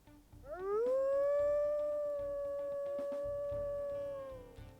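A single long wolf howl in the video game WolfQuest rises quickly and holds a steady tone before fading, with a low rhythmic background beneath it.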